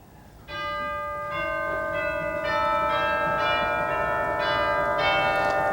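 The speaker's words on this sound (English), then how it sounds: "This organ had a set of chimes that was added sometime after the organ was first installed." Chimes on the Wicks pipe organ in Redwood City ring out in a slow series of bell-like strikes, each tone sustaining and overlapping the last, clear and resonant in a quiet interior.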